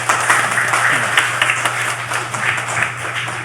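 A church congregation at a Sunday service claps together in steady, dense applause that fills the room, loud and continuous with no speech over it.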